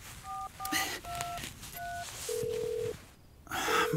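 A mobile phone is dialed in a German radio drama, giving a string of short electronic key tones followed by longer ringing tones, distinct and near against a faint background.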